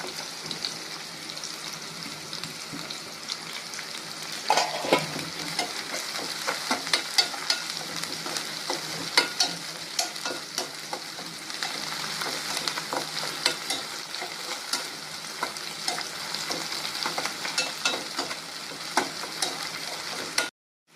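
Green chilies sizzle and fry in a pan while pori upma is cooked, with a steady oily crackle, a few stirring scrapes and ticks, close and continuous without talk.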